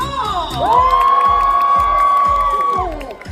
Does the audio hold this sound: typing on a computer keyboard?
no